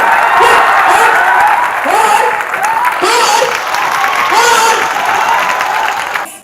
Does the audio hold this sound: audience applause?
yes